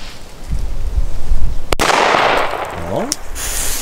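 A KATAN Chinese firecracker from 2020 goes off in a single sharp, loud bang outdoors. Rumbling noise comes after the blast, and a brief rising whistle-like tone follows.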